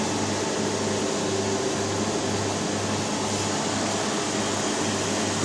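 An FDM 3D printer (Pro DV model, 203 x 203 x 305 mm build volume) runs while printing ABS thermoplastic, giving off a steady broadband mechanical whir with a pulsing low hum. It stays constant throughout, with no talking.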